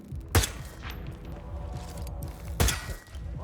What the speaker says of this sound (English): Here, I fire a triple shot above Agent Swan's head.